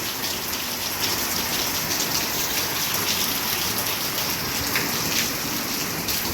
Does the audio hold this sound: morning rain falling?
yes